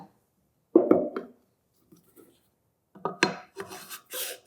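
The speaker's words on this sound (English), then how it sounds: "to get started here, we're going to put our suppressor in the vise block" A firearm suppressor being set into a vise block and clamped, with a couple of scraping metal-on-wood rubs and clunks near the microphone, separated by quiet pauses.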